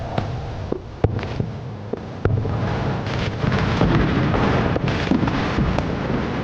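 Fireworks crackle and pop with sharp bursts over a continuous roaring wash of noise, some reports louder and closer than others, with no voices heard.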